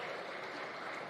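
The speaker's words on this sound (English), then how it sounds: "Round of applause for the Sunshine Stage." A conference audience applauds a stage group, giving a continuous, even wash of clapping that holds steady throughout this short moment.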